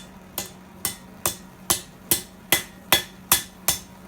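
A hammer strikes hot metal on an English anvil, forging a simple decorative leaf: nine sharp, ringing blows at an even, steady pace, close and loud, with no talking.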